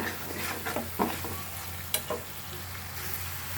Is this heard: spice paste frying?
yes